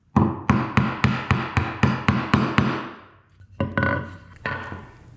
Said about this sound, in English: I chop about halfway, then flip, chop halfway from the other side.